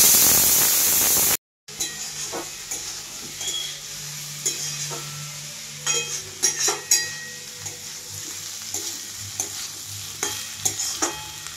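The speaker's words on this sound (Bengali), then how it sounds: "এবারে কিছুক্ষণ আমি এইভাবে ভাজবো।" Drumstick flowers and tomato fry in a pan, making a constant soft sizzle broken by sharp clicks and scrapes of stirring, close up and with no talking.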